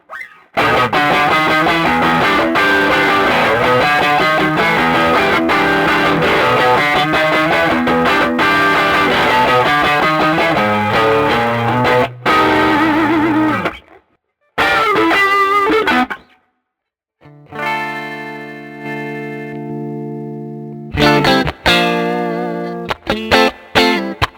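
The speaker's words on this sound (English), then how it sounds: "I've got another preset that adds a tube screamer pedal" Electric guitar through a Tube Screamer overdrive plugin plays chords and riffs with a crunchy, mid-heavy distortion, pausing briefly before ringing sustained notes and a final flurry.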